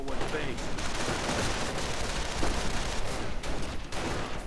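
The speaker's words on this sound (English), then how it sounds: "Volksgrenadiers firing away at these riflemen moving in." Video game infantry fire in a World War II setting, where Volksgrenadiers shoot at advancing riflemen, builds into a dense, continuous crackle of rifle and automatic shots with distant thuds, heard under a commentator's voice.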